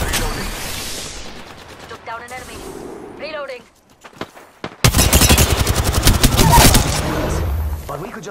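Video game gunfire with loud bursts of rapid shooting up close, following a stretch of game sounds and a brief quieter pause.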